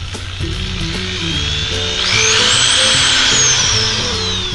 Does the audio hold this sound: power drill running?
yes